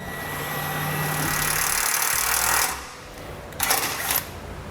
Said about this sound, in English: We just get a hole drilled right there to attach it to.